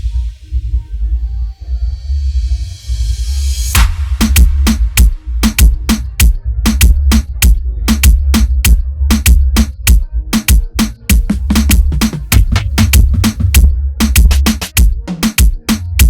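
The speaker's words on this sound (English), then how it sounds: "Here I added some fills in the middle from the reggaeton drum kit" An aggressive dancehall beat opens with a rising noise sweep, then punchy kicks, sharp claps and rapid reggaeton-kit drum fills hit loud and dense in a steady driving rhythm.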